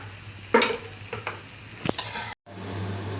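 Onion and tomato masala sizzles continuously in a pan with sharp scraping strokes of a spoon stirring, a brief dropout near the end before the sizzle resumes.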